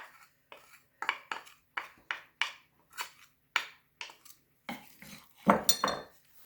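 A spoon scrapes and stirs a saffron mixture in a bowl for a hen pie, about a dozen separate close scraping strokes in a steady rhythm, ending in a louder clatter against the bowl.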